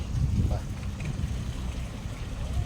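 A low fishing trawler engine rumbles steadily nearby, mixed with wind buffeting the microphone.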